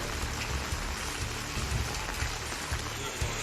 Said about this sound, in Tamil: கொடைக்கானல் மலைப்பகுதியில் ஒரு மணி நேரத்திற்கும் மேலாக கனமழை பெய்தது